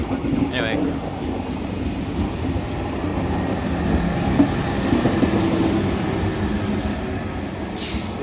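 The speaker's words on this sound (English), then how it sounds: "There we go, so that departs off to Cologne." A train pulls out of Paris Gare du Nord bound for Cologne, a steady rumble of rolling wheels and carriages with faint squeals, heard close and continuous along the platform.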